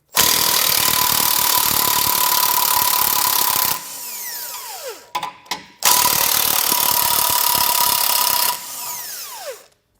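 Power tool spinning off the tow hook bolts, 15mm heads, on a 2022 Ford frame: two long, loud, steady whirring bursts, each ending in a winding-down whine, separated by a short pause with light clinks.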